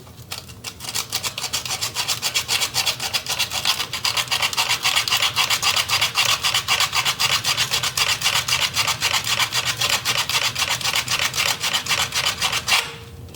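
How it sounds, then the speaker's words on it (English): Sandpaper rubbed rapidly back and forth over a carburetor part from a 1966 Ford Mustang, a loud, close, continuous rasping with an even rhythm that runs for most of the stretch before stopping. "So I'm gonna take sandpaper."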